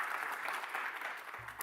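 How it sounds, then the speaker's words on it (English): Steady applause from an audience at an academic business-school event, filling the whole short stretch at a moderate level, with a low hum entering near the end. "Can we give them all a round of applause?"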